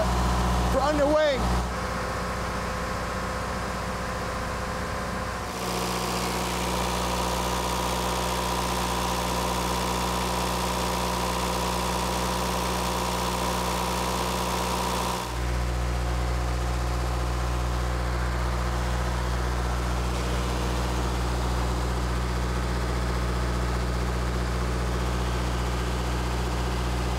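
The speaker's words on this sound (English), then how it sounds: "diesel engines are rated at 900 horsepower each" Diesel engines of the Coast Guard cutter Point Stuart, rated at 900 horsepower each, run with a steady low drone and hum for the whole stretch, shifting in tone partway through, with faint talk in the background.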